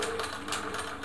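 A Singer 700 Series sewing machine runs a wide zigzag stitch, giving a steady, close mechanical whirr with a fast, even rattle throughout a brief burst.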